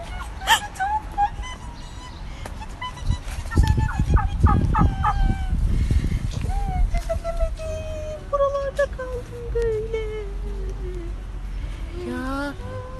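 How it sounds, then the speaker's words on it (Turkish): Fowl calling repeatedly at close range, rising and falling gobble-like cries over a cartoon-style scene with music and some voices; poultry sounds run throughout, loudest in the middle. "Burada bir sürü tavuk var ya."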